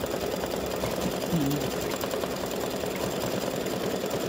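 An embroidery machine sews satin stitch on a free-standing lace snowflake earring, a steady close mechanical whirr with a fast, even stitching pulse running unbroken throughout.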